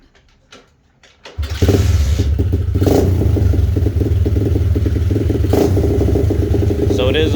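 An X-Pro Storm 125cc four-stroke dirt bike with no clutch starting up after a few quiet knocks, then settling into a loud, close, steady idle with a slight rise in revs.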